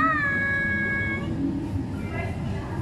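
A cat meows at the door of a Popeyes restaurant, a few drawn-out harmonic cries in the first second and a fainter one later, heard over busy restaurant chatter and background noise.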